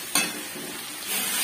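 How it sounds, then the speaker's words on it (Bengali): Fried potatoes tip into hot spiced oil in a pan and sizzle loudly, with a brief stirring scrape, close up. "এবার এর মধ্যে ভেজে রাখা আলুগুলোকে ঢেলে দিয়ে একটু কষিয়ে নেব"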